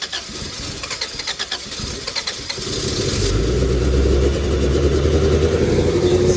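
An AWD car engine with an exhaust leak cranks and starts, then revs up loudly as the throttle is held, settling into a strong, steady roar.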